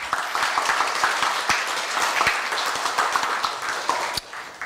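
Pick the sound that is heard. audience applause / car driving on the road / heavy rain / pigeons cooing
audience applause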